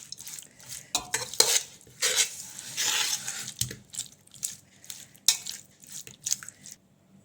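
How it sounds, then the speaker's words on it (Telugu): Oil left from frying onions, chopped coriander and spices being stirred together in a bowl for chicken dum biryani, a close spoon-on-bowl scraping and clinking in uneven bursts, no talk. "ఇలా బాగా మిక్స్ చేసి పక్కన పెట్టుకోవాలి."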